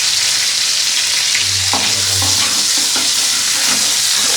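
Chicken pieces frying in hot oil with ginger-garlic paste in a home kitchen, a steady loud sizzle throughout with a few scraping stir strokes partway through, no voices.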